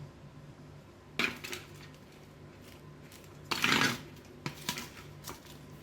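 Mango and coconut chutney ingredients being mixed in a bowl, with a few separate bursts of clinking and scraping against the dish over quiet background hum.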